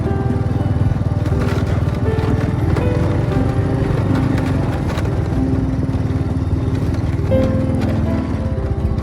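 A motorcycle engine runs steadily and loudly up close on a sandy desert road, a continuous throbbing drone with some rattling over the whole stretch.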